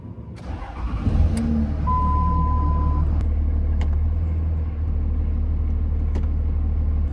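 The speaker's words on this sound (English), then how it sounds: "Now I'm gonna start this motor up and run the transmission through each gear without moving the vehicle at all" A Dodge engine with a 48RE automatic transmission starts and settles into a loud, steady idle while the transmission is cycled through each gear with the vehicle stationary, faint clunks and a brief whine over the rumble.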